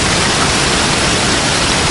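Roaring waterfall at Manavgat, a dense, steady broadband rush of falling water, loud and close with no break.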